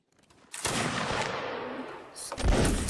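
Musket volleys from a Napoleonic Wars line battle in Mount and Blade, a dense crackling fusillade of many shots blending into a long roar, with a second loud burst near the end.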